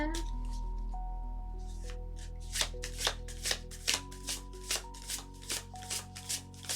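Tarot cards being shuffled by hand, a run of about a dozen crisp riffling bursts in a steady rhythm, close and fairly quiet over a low steady hum.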